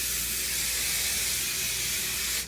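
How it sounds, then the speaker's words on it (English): Hairspray hisses from an aerosol can onto styled hair, one loud, continuous spray lasting a couple of seconds with no talking. "I'm also gonna add some hairspray to give some extra hold."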